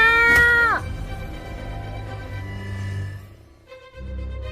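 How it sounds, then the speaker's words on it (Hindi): A cat meows loudly once with a long drawn-out cry, followed by quieter background noise and a faint second mew near the end. "बिल्ली, तुम पद्दू के पास जाओ, मैं अभी इनकी खबर लेता हूँ।"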